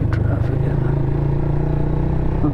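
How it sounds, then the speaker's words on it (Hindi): Heavy road traffic on the way to Murree on the third day of Eid, with a steady low engine drone from passing cars and motorcycles and a brief rev near the end. "काफी सही ट्रैफिक है।"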